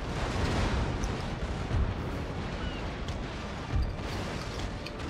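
Ship broadside cannon fire in the naval battle game Napoleon Total War: a dense, continuous rumble of distant booming shots that swells in a few heavier bursts, with no voices.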